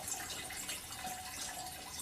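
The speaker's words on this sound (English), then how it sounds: "Now I'm draining the coolant because the coolant runs through the timing chain cover" Coolant draining from a Jeep/Dodge 4.7 engine, a steady hiss of liquid running out in a continuous, even stream, close and moderately loud, without talk.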